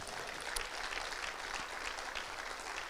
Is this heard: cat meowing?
no